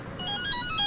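Mobile phone ringing with a short electronic melodic ringtone, a brief bright tonal phrase that grows a little louder toward the end, heard alone in a quiet room.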